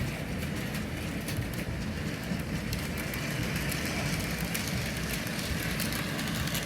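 Bachmann Silver Series model train coaches rolling steadily around a track, producing a continuous low rumble with faint clicking above it, moderately loud and with no talking throughout.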